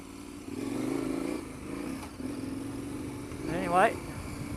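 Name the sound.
KTM 1090 Adventure R motorcycle riding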